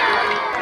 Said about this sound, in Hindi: सब लोग ताली बजाएंगे जोर से।